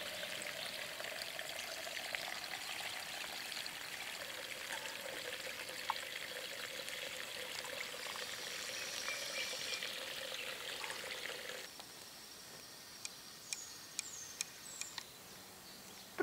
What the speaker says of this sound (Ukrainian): Спускаємося нижче, до струмка.